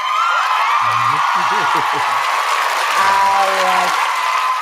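Steady applause from a crowd with some cheering throughout, while voices talk over the clapping partway through.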